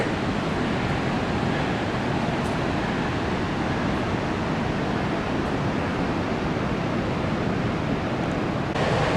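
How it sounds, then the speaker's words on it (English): Ocean surf rolls in at Meyers Creek Beach in Pistol River State Park on the Oregon coast: a loud, steady, unbroken roar of breaking waves with no pauses and no voices. "This is Meyers Creek Beach, Pistol River State Park."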